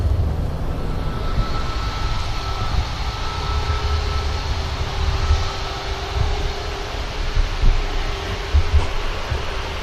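Airliner departing Manchester Airport, a steady distant jet roar with broadband rumble holding through the whole stretch, faint tonal whine above it.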